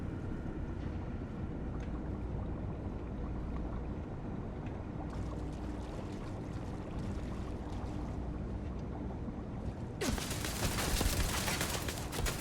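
Turret gunfire in the sci-fi video game Starfield, heard inside a restricted facility wing: a steady low mechanical hum runs throughout, then a loud, dense burst of rapid shots erupts for the last couple of seconds.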